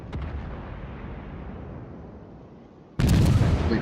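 Heavy cruiser naval guns from World of Warships, the T6 Pensacola, firing a salvo: a brief boom at the start decays into a long rumbling tail before a second loud, close blast erupts near the end.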